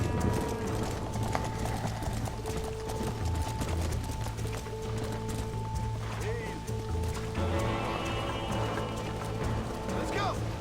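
Rapid hoofbeats of a galloping horse in the video game Red Dead Redemption run steadily beneath people talking, with other game sounds mixed in.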